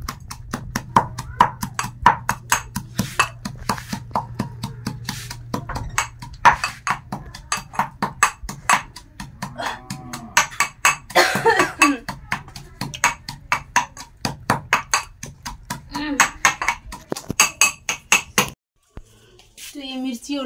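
Chillies and garlic with salt being pounded by hand in a mortar, a rapid run of hard, ringing knocks that keeps a steady rhythm for most of the stretch, close and loud, then stops.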